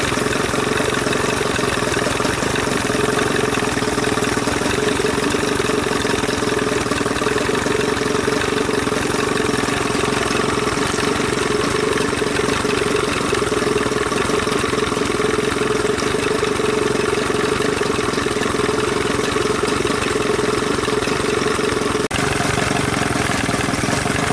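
A 30 hp Evinrude outboard motor runs steadily and loudly at high revs, a constant dense drone that holds without break throughout.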